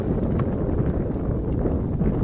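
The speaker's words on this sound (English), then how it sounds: "It is so windy today" Strong gusting wind buffets the microphone outdoors at a model airfield, a steady low rumble with no pauses and no voices.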